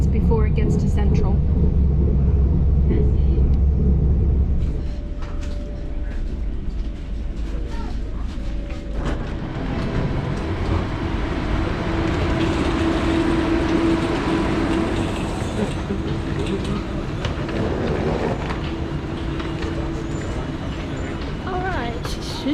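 An airport rail link train runs into central Kuala Lumpur, giving a steady loud rumble with clattering and rolling noise throughout, louder low drone at the start.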